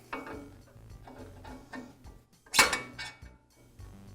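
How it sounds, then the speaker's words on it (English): A pulley and its key refitted onto the shaft of an MK Diamond tile saw during a bearing repair: a few light metallic clinks and taps, then one sharper clank near the end, close up with no speech. "Now I'll reinstall the pulley key"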